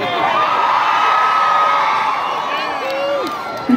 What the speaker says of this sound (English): I say that and there's a bunch of women that yell.